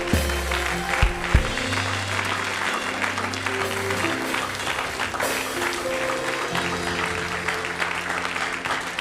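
A church congregation applauds steadily and loudly, with faint cheering mixed into the sustained clapping.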